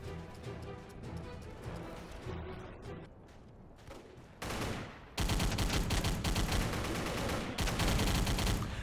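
Artillery and gunfire in a video game mission: bursts of dense, rapid shots that thin out, then a loud, sustained barrage of heavy firing near the end, with no talk.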